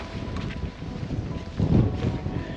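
Wind buffeting a microphone on the open deck of a cruise ship off Iceland in rainy weather, a steady low rumble that swells louder for a moment near the middle, with no voices.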